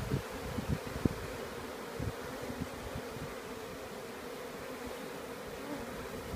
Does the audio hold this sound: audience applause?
no